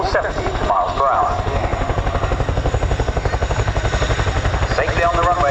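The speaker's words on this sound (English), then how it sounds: "Whirly uses the unique aerodynamic qualities of the Chinook to balance on its aft wheels" Chinook tandem-rotor helicopter at an air show, landing and balancing on its aft wheels on the runway; a loud, steady rotor drone with rapid rhythmic blade thump fills the whole stretch, with a voice talking over it.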